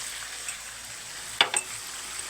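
Chicken skin sizzles in homemade oil with a steady bright hiss, broken around the middle by a couple of short scraping stirs in the pan.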